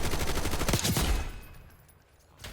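Video game gunfire from headshots crackles in a fast, loud burst of rapid shots, then fades into a quieter tail with a faint thump near the end.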